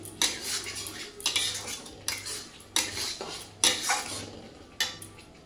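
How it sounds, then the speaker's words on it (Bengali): A spatula scrapes and clanks against a wok while spiced oyster mushrooms and peas are stirred, about eight rhythmic metallic strokes close up. "কড়াইশুঁটি দিয়ে ভালো করে এটাকে কষানো হচ্ছে"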